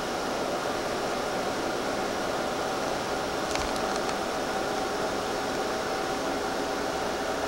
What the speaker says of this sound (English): There's the air conditioner running.